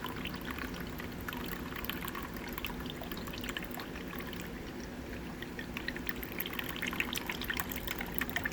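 One cup of soy sauce for a jalapeno chicken sauce pours in a steady, continuous trickling stream close by, running unbroken for several seconds with no talking.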